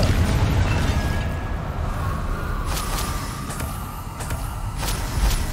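A Confringo spell in Hogwarts Legacy lands as a deep booming blast, followed by a rumbling low tail and a few sharp crackles over a noisy combat backdrop.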